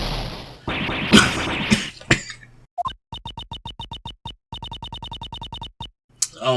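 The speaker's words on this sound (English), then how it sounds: "Oh my god, coughing fit." A person breaks into a coughing fit: a burst of loud raspy coughs and throat noise, then a rapid string of short, evenly spaced hacking coughs, close and loud.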